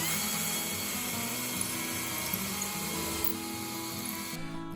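Power drill boring pilot holes into a wooden bracket for model railroad benchwork, a steady, loud motor whine holding throughout, with faint ratcheting texture and no talk.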